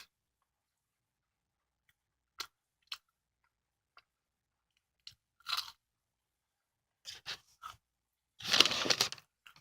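Someone bites and chews a crunchy fish-shaped bungeoppang filled with custard cream. Sparse, quiet crisp crunches and soft chewing come close to the mouth with silent pauses between them, building to a fuller crunching bite near the end.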